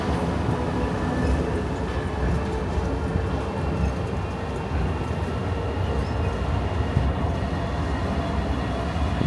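A steady, low rumbling of a Disneyland parking tram in motion, continuous and fairly loud, with no voices.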